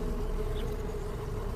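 A steady insect buzz of bees in a scene from the TV drama The Doctor Blake Mysteries, continuous and fairly close, droning without pause over a low background hum.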